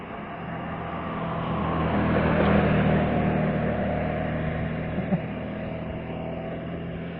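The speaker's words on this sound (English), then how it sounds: "Got another driver hot rodding along the street here." A hot rod car drives along a street with its engine revving, a sustained low engine drone that swells and fades as it passes, with steady background rumble.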